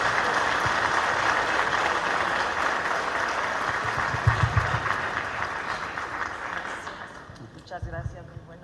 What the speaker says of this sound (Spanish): démosle un caluroso aplauso y una bienvenida cálida aquí al Estado de México